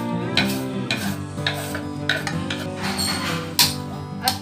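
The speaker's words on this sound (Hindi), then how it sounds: "अब चम्मच से अच्छे से मिक्स कर लूंगी मैं इसको।" A spoon stirs and mixes food in a pan for a Navratri fasting recipe, with a steady sizzle underneath and occasional clinks of metal against the pan.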